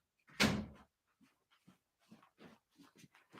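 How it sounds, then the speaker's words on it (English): An indoor door swings shut with a single loud thud and rattle near the start, followed by a few soft scattered clicks and shuffles in a quiet room. "I'm just going to shut this door here."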